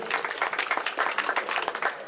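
Loud, dense applause from a crowd at a pigeon tournament function, honouring the organisers, with sustained rapid clapping throughout and no talk.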